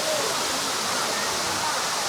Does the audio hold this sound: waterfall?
yes